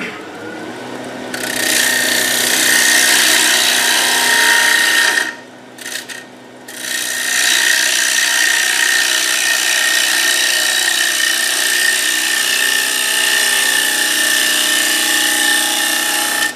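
Gouge cutting the wall of a winged wooden bowl on a lathe, making finishing cuts: a steady, loud rasping scrape that runs almost continuously, with one brief pause about a third of the way through before the cutting resumes.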